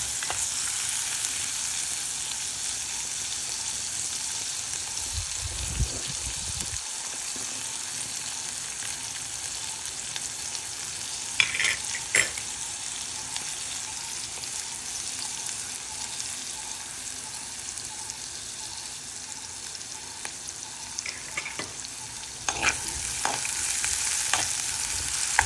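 Onions frying in a pan and stirred back and forth with a ladle while cooking a tinned fish curry, a continuous close sizzle with occasional scrapes and clinks of the ladle, no voices.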